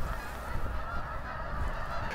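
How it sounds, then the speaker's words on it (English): Canada geese fly overhead in large numbers, their honking heard faintly and steadily at a distance over a constant outdoor wash of noise. "I have Canada geese in the masses flying over top."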